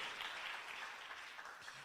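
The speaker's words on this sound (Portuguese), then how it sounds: "Dá um aplauso a ele" A church congregation applauding: a steady, fairly faint patter of many hands clapping together, with no voices over it.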